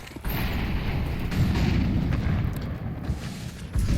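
Grenades burst in a Counter-Strike match, a dense, loud rumble of overlapping explosions that keeps going through the whole stretch with no pauses.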